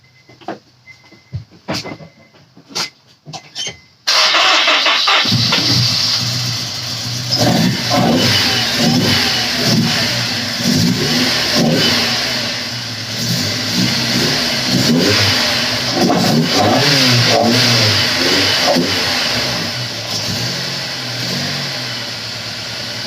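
Honda S2000 with a melted coil pack cranked over and started after a few clicks, then revved repeatedly in a series of loud surging bursts that settle toward a rough idle, close up and continuous.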